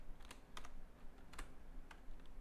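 A few quiet, separate clicks from computer keys, sparse and close, alone with no talk.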